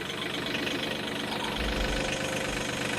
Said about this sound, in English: let's see if you could just back the backhoe in